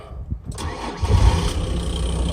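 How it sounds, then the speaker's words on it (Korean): A 2003 SsangYong Istana 12-seat van starts up: a short starter crank rises into a catch, and the engine then settles into a loud, steady idle close by. "일단 키를 키고요 시동을 한번 걸어볼게요"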